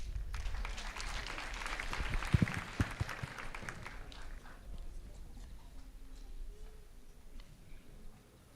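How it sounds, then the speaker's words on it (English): Graduation ceremony audience applauds, a dense burst of clapping for about four seconds that then fades into quieter hall ambience with a few stray claps. "A round of applause for him, please."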